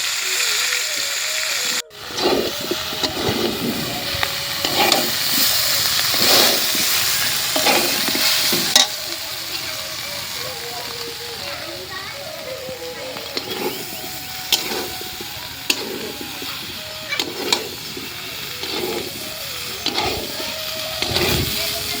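Cauliflower pieces sizzle and fry in hot oil with turmeric over a clay village stove, with a loud continuous crackle and repeated scraping stirs from start to finish.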